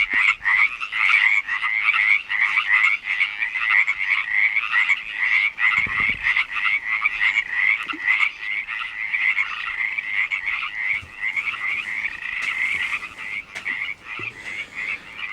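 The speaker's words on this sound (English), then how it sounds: "I'm going to start a track of these stupid ass frogs." Frogs croaking outdoors at night, a loud, dense chorus of rapid repeated calls that pulses continuously throughout with little pause.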